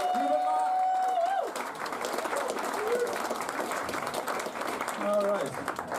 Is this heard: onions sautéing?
no